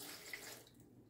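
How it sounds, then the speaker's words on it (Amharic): Water pours into a blender for a green juice made with vegetables and lemon, a short faint splashing stream lasting about a second with no talk. "አሁን ውሃ ጨምርበታለሁ።"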